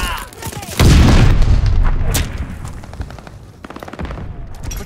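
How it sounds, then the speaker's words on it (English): A grenade blast in Call of Duty: Vanguard on the Tuscan patrol map, a loud booming burst with a rumbling tail and scattered gunfire cracks around it in a busy battlefield mix. "Incoming grenade!"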